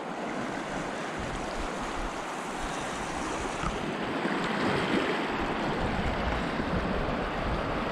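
The flooding Orange River at peak flow near Klein Pella rushes in a loud, continuous broadband roar, steady throughout with some wind buffeting the microphone.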